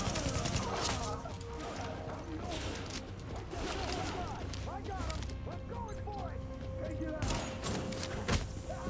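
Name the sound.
gunfire in video game Tom Clancy's The Division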